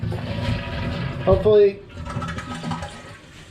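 A bathroom toilet flushes after its leaking supply hose was replaced with a new one, a short loud gurgling rush followed by softer water running and refilling, with a person speaking briefly over it.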